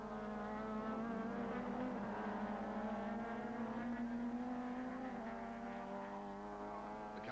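Super Touring race cars roar past at over 200 km/h on the fastest section of the Kyalami circuit, a continuous loud engine drone with rising and falling pitch as they accelerate.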